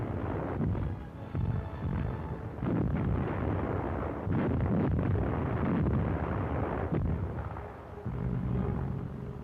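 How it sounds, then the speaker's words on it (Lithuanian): Artillery fires in a wartime battle, a continuous rumbling barrage of heavy booms and blasts, dense and roaring, heard without any talk. "Artilerija šaudo."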